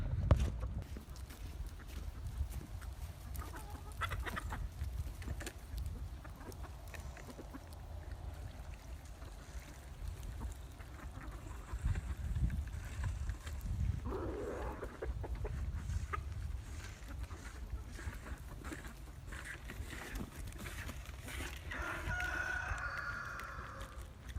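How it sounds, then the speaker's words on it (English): Chickens cluck around a new trough feeder at feeding time while a rooster crows, with faint intermittent calls over a low, steady outdoor rumble. "We're gonna feed the chickens one more time real quick in their new trough feeder"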